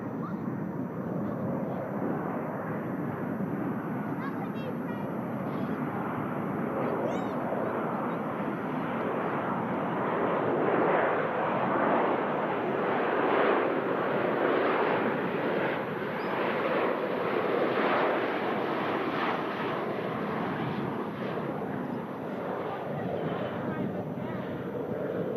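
A jet aircraft wobbles in on approach to land at Manchester Airport in blustery wind, a steady broadband roar that stays loud throughout with gusty wind rumble, and a voice talks over it.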